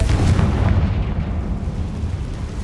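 A Confringo spell detonating in the video game Hogwarts Legacy, a heavy, rumbling blast with a booming low-end burst that rolls on and fades over a couple of seconds, with no voices.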